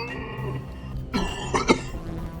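General Grievous's cough from Star Wars Episode III, performed by someone and processed to sound robotic and metallic: several harsh, rasping coughs with wheezy breaths in between, fairly close and clear.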